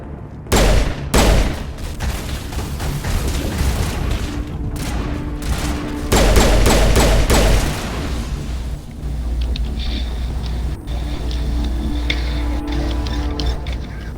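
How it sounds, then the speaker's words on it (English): Sustained assault rifle fire from the video game Mass Effect Legendary Edition, with loud bursts of shots stacked over a dense, rumbling battle backdrop of booms and continuous noise. "Caden's using the assault rifle right now"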